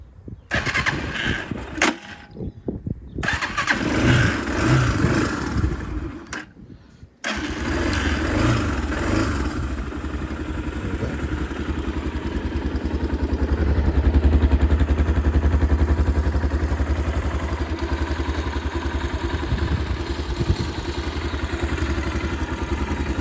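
An older Harley-Davidson (Hartford) motorcycle engine is started with the choke on. A few cranking bursts and pauses lead to a catch, then a loud, steady, close-up idle runs on and swells slightly midway.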